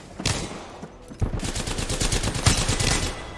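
Rapid gunfire from the Wingman handgun in a first-person shooter game, a burst of sharp repeated shots starting after a brief quiet moment and continuing steadily, fairly loud and close.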